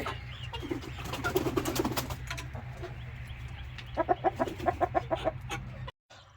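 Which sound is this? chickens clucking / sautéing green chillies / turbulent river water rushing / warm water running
chickens clucking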